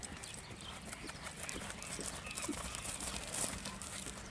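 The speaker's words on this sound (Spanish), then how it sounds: "Caballo manso que se relaja enseguida después de trabajarse." A tame chestnut horse moves after being worked, with faint rapid hoof clip-clops over steady outdoor background noise and no clear voice.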